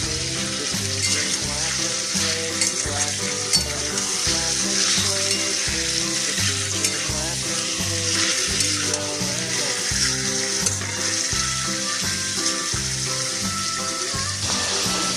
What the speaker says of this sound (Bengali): এখন এটাকে দিয়ে কষতে হবে, তাই এটা কষে নিই